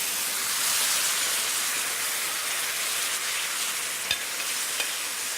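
Aromatics sauté in a hot pan with chili flakes, giving a steady, close, even sizzle that runs throughout with a couple of faint taps near the end.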